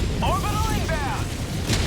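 An orbital strike lands in Helldivers 2 with a heavy, continuous low rumbling boom and mechanical whine, chirping electronic tones over it, and a voice speaking briefly in the mix.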